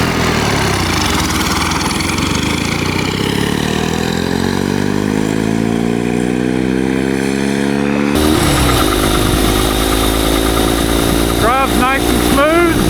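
A small turbocharged mini bike powered by a generator engine rides on ice, its loud buzzing motor rising steadily in pitch as it speeds up. The engine note then shifts and keeps droning, with a voice talking over it near the end.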